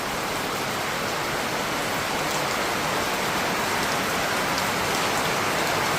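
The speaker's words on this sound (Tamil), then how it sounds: "இன்றைக்கி மழை எப்படி பெய்யுது" Steady, heavy rain falling in Thiruvananthapuram, a dense, unbroken hiss of drops on surfaces that stays loud and even throughout, with no voices.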